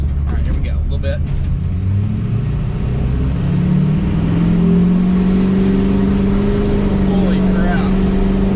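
A stock diesel pickup with a Banks cold air intake and 5-inch exhaust accelerates on the road, a loud deep engine drone climbing steadily in pitch as it pulls, with talk over the start.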